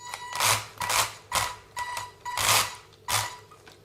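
WLToys 144001 RC car drivetrain with a grinding fault, running in repeated bursts of harsh, rattling mechanical noise about every half second, close and loud with no talking.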